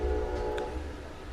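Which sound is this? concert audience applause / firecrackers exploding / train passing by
train passing by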